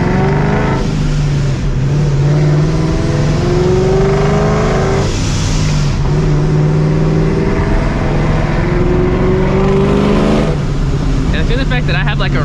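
Supercharged New Edge Mustang GT driven hard on the street, engine revving up through repeated rising pulls with shifts between, loud and close, with a voice talking over it.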